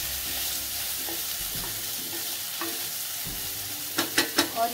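Ingredients for a sabudana snack are stirred in a hot pan, a continuous close sizzle running throughout, ending in a quick run of four louder scraping strokes of the spoon against the pan.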